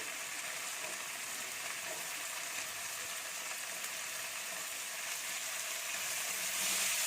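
Cut potato pieces frying in a hot pan alongside cauliflower, a continuous close hissing sizzle that holds steady and swells slightly near the end, with no voices.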